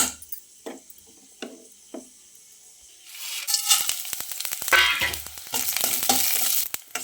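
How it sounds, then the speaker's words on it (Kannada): Quiet scraping and light clinks, then a loud burst of sizzling as spices hit hot ghee, crackling steadily with stirring for several seconds. "ಮಸಾಲೆ ಪದಾರ್ಥ ಎಲ್ಲ ಫ್ರೈ ಮಾಡ್ಕೋಬೇಕು ಇದಕ್ಕೆ ಇವಾಗ ತುಪ್ಪ ಹಾಕಿ"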